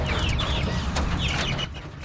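Chickens clucking in a news segment about chickens used to fight mosquito-borne West Nile virus, several overlapping calls repeating steadily and fairly close over a constant low background rumble.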